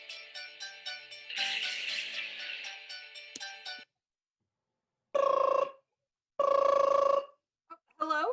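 A telephone rings twice during a call in a stage play, two loud sustained electronic ring bursts following a stretch of music.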